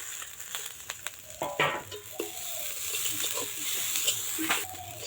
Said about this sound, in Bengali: এটা 2-3 মিনিটের মতো ভালোভাবে নাড়িয়ে নেওয়ার পর যত ভাজা ড্রাই ফ্রুট আছে এই টাইমে কিন্তু দিয়ে দেব।